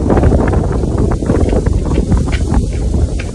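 Strong wind buffeting a microphone outdoors in windy Maui County, a loud, steady roaring rush with no talking.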